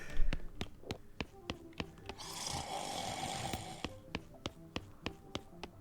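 A game character snoring in West of Loathing, a loud noisy snore swelling over about two seconds in the middle, framed by sharp regular ticking taps before and after.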